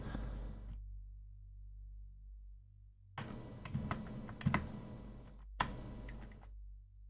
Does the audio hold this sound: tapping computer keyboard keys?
yes